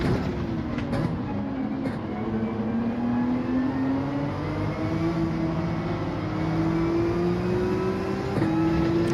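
Race car in a racing video game roaring past, its engine note climbing steadily over a constant loud drone of engine and road noise, with no talk.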